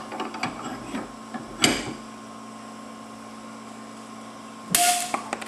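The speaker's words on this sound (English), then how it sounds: "You notice the acrylic model had broke. Okay? It's cracked." An acrylic siphon U tube squeezed under pressure in a vise gives sharp, sudden cracks, one near the start and a louder snap near the end, with small ticks between them over a quiet room hum.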